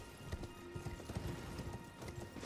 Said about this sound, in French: Ah, j'ai entendu un cheval.